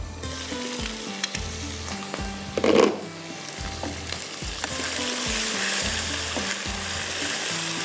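Chicken sizzles and fries steadily in a pan with onions and spices, a continuous crackling hiss with a brief louder burst of stirring partway through.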